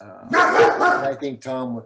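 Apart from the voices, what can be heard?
dog barking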